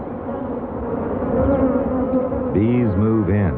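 A low, droning buzz of bees nesting in an acacia tree hums continuously, with some higher wavering tones rising near the end.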